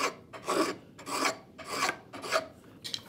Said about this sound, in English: from this point, we're going to start going with the scraper